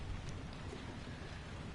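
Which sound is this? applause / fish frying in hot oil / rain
rain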